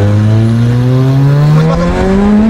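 A VW Scirocco R with AWD and a tuned turbo engine launches hard, its engine roaring loud and close with pitch rising steadily through the pull.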